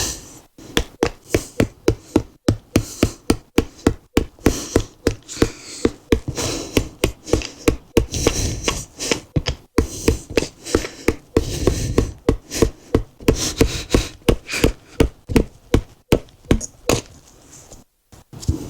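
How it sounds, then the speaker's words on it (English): Tent pegs for a hot tent are driven into the ground with a piece of driftwood used as a makeshift hammer: a long run of sharp, regular thuds, close and evenly paced, with a few brief pauses. "let's get these pegs in. I got a piece of driftwood makeshift hammer."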